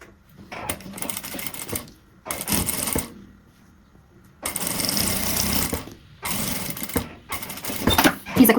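A sewing machine stitching a straight seam on plastic for a zippered pouch with a clear window, running in rapid rattling bursts of a second or two, separated by pauses, close and fairly loud.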